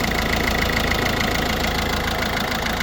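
A Peugeot 1.6 diesel car engine, previously hard to start in the morning, runs steadily at idle with a continuous, even diesel clatter and hum, loud and close throughout with no talking.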